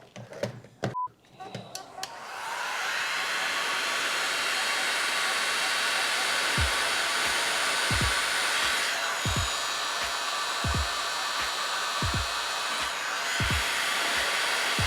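A heat gun blows with a steady, loud whooshing drone while heating labels on a scale model Audi quattro Group S car, after some brief handling clicks, with faint knocks underneath.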